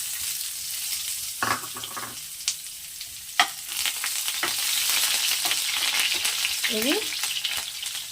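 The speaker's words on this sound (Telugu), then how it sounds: "ఆయిల్ హీట్ అయిందండి. దీంట్లో కట్ చేసుకున్న ఆనియన్ వేద్దాము" Chopped onion dropped into hot oil in a pan for a ridge gourd curry, giving a loud, steady sizzle with several sharp clinks and stirring scrapes.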